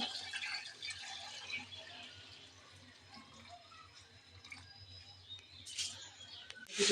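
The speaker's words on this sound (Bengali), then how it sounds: "ফোটানো পানিগুলো দিয়ে দিচ্ছি" Boiled water is poured into a cooking pot, a faint, close trickling and splashing that stays quiet, then ends in a sharper, louder splash.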